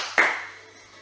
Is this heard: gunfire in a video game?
no